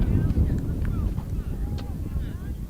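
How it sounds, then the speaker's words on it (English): Gusting wind buffeting the microphone at an outdoor high school baseball field in Chetek, a continuous low rumbling roar that fills the clip, with faint distant sounds above it. "Some gusting winds at times here at Chetek that we've seen."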